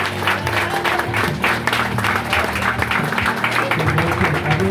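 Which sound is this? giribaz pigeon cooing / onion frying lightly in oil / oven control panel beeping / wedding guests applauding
wedding guests applauding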